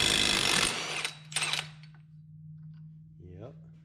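Power tool briefly whirring on a Subaru axle nut, a loud burst of buzzing impact followed by a second short burst, then a steady low hum.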